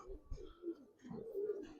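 Giribaz pigeons coo in low, soft, rolling phrases, repeated a few times at close range in a quiet setting at a pigeon seller's.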